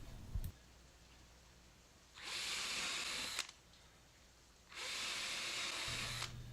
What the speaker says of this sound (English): so again I'm using the 1/8 inch drill bit.